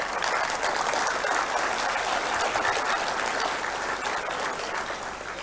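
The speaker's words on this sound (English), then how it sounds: "big round of applause for those who are present even now" A seminar hall audience applauds steadily for several seconds, a dense, even wash of clapping from many hands that fades slightly at the end.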